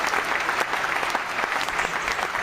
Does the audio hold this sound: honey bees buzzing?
no